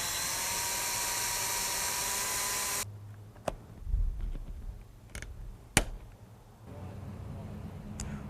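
A drill bores into a greenhouse frame to set a rivet, a steady high whine that cuts off, followed by sharp clicks, knocks and handling noises at close range.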